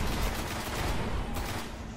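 Continuous rapid gunfire roars through a Destiny beta match, loud and unbroken for the whole stretch.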